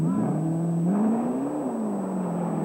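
A Mercedes works rally car driven by Waldegard accelerates hard away from the start of a stage at the 1980 Motogard Rally, its engine note climbing and shifting steadily, loud and close, with no talk.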